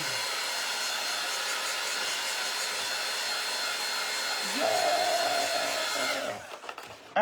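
A hair dryer blows steadily to dry craft glue on a thrifted piece, a loud continuous whoosh that shifts slightly in pitch partway through and cuts off near the end.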